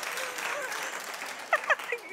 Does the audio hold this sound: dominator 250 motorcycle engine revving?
no